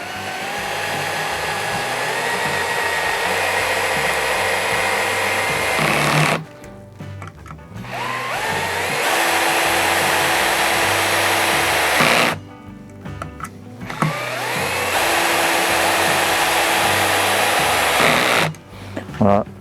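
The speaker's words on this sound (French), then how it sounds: "je vais peut-être réduire mon couple pour éviter de sortir de l'empreinte de la vis" A Ryobi R18DD3 cordless drill-driver drives a screw with its torque lowered, whining loudly and steadily in three long bursts separated by short pauses, close to the microphone with no talking over it.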